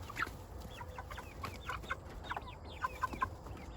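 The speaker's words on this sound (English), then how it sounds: "Those must be 2 roosters. Kind of fighting it out a little bit." Chickens cluck and squawk in short, agitated bursts over an outdoor background as two roosters among eight-week-old meat chickens fight, with sharp high calls near the end.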